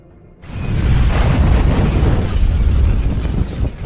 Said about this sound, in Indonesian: Lalu tiba-tiba api mengelilingi lift dan naasnya api melumat seisi lift dan akhirnya lift pun meledak.